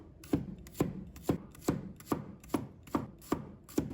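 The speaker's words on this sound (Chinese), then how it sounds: "再切成蒜末。" A kitchen knife chops garlic into minced pieces on a board, with eight crisp, evenly spaced strikes at a steady rhythm, close and clear, with no talking.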